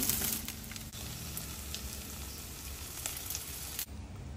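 Mud carp fish frying in hot oil for Vietnamese sizzling pancakes gives a close, steady crackling sizzle that runs throughout and drops off abruptly near the end, with no talk.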